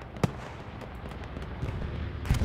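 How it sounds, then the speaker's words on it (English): Bombing run explosions in the World War II shooter Hell Let Loose, heard as a sharp nearby blast early on, a steady low battlefield rumble after it, and a second heavy burst at the end. "Bombing run"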